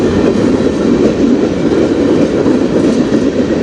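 A freight train rolls past on the Strathroy Subdivision, a loud, steady roar of wheels and railcars with faint clickety-clack, continuous and close, with no voices.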